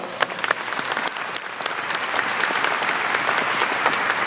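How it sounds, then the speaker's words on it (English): Audience applause at a Congressional Black Caucus emergency summit on urban violence, a dense, steady clapping from a large room that grows fuller and louder after the first two seconds, with no talking over it. "Give her a big round of applause."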